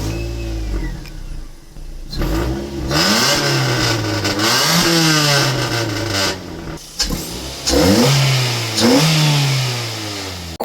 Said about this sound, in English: Oh, that exhaust genuinely sounds horrible.